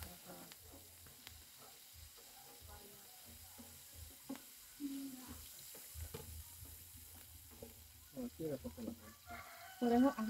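Chile fries in oil for paella, a light sizzle and occasional stirring clatter outdoors, with a rooster crowing in the background and some faint voices.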